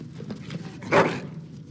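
A dog in the video game Dragon Age Origins gives a short whimpering yelp over a low background murmur, heard once and close.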